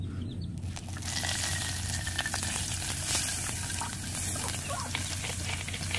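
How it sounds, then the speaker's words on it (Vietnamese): Country-style fish sauce hits a very hot clay pot and sizzles loudly and steadily for several seconds, close up and with no talking. "Bây giờ mình sẽ cho nước mắm vào."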